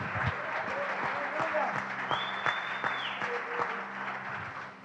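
Church congregation applauding, a dense wash of clapping under a preacher's voice and a few other voices, held at an even level throughout.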